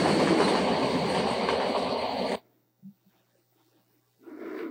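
In a VR simulation, a train moves along a railway with a dense, loud rolling rumble for about two seconds. It cuts off abruptly to near silence, with a faint knock, then the rumble returns more softly at the end.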